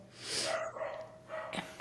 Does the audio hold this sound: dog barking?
yes